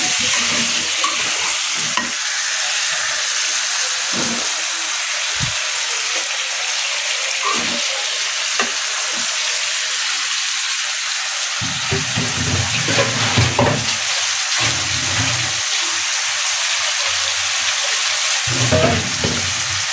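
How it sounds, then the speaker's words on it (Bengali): Boiled eggs and potatoes fry in a pan with frequent stirring, a continuous close sizzle broken by repeated utensil scrapes and knocks for about twenty seconds. "এখন এই যে আলু দিয়ে ডিমটা রান্না করতেছি"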